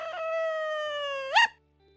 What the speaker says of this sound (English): As if answering me, he gives a tiny howl, but it breaks into a yelp